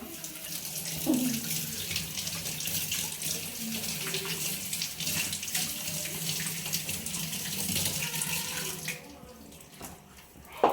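Steady running tap water splashing into a sink as amaranth greens are rinsed underneath for prawn curry, continuous and close, with no talking.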